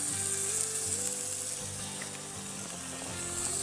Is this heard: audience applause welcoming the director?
no